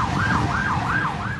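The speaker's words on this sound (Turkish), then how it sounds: "Ambulans Sağmalcılar Viyadüğü'nde sirenleri açık halde trafikte ilerliyordu." An ambulance siren wails in a steady rising-and-falling cycle, loud and close, while moving through traffic on a viaduct, with engine rumble beneath and no voices.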